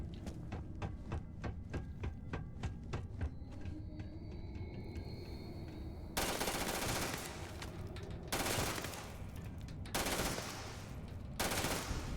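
An automatic gun fires in Starfield with rapid, evenly spaced shots at first, followed by loud sustained bursts of fire broken by short pauses.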